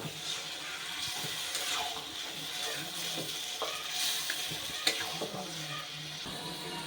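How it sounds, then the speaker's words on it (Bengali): Marinated mutton pieces sizzle and fry with spices in a pan while being stirred, a steady crackling hiss broken by scraping strokes of the spoon, close and moderately loud with no talk. "মাংস দিয়ে কিন্তু খুব ভালোভাবে মশলাটা মিশিয়ে নিচ্ছি"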